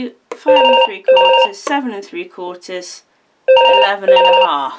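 A telephone ringing indoors in repeated electronic trill bursts, two rings close together then a pause and two more, under a person talking steadily.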